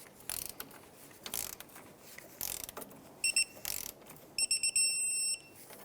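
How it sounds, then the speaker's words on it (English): A torque wrench tightens an inner tie rod clamp on a 1999-2004 Jeep Grand Cherokee, with sharp ratcheting clicks in short bursts and a few high electronic beeps near the end. "Go ahead and torque this down to 30 foot-pounds."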